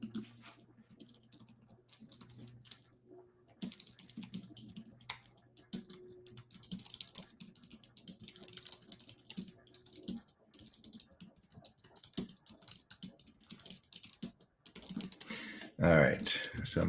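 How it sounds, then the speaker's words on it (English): Rapid, uneven clatter of computer keys under light background noise, with a few louder bursts of typing near the end. "I'm typing away furiously"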